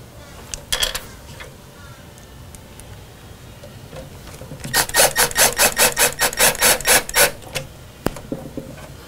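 Small wood screws being driven into a wooden Atari Cloak & Dagger arcade cabinet during restoration, a few scattered scrapes and taps followed by a close, loud run of rhythmic grinding turns, then a sharp knock.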